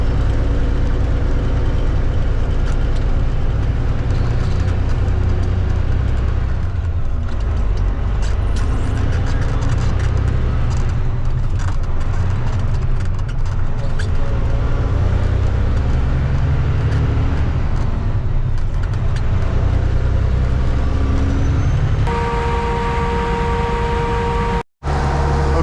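A loaded grain truck cruising on the road during an Iowa corn harvest, with a steady loud engine drone and road rumble from inside the cab that runs continuously, a brief tonal whine near the end before a sudden cut.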